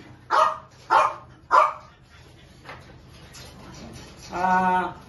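A beagle barks three times in quick succession, loud and close, followed by a softer whimpering yelp at the end.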